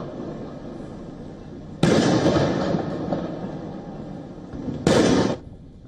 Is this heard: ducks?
no